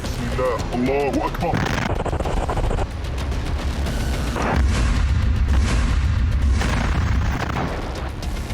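A GBU-38 bomb strikes a Merkava tank east of Jabalia camp in wartime Gaza: heavy, rumbling booms and blast roar fill the second half, loud and sustained, with brief voices and noise beforehand.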